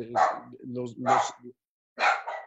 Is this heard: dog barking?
yes